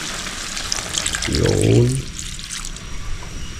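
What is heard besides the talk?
pouring vinegar with garlic and pepper into cooking pan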